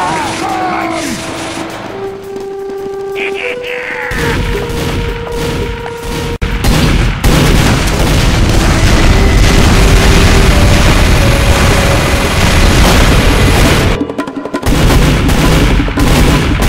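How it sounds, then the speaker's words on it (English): Loud cannon fire in an animated Source Filmmaker short: booming blasts and bursts over a dense, continuous layer of music and sound effects, with brief voices mixed in. "cannon!"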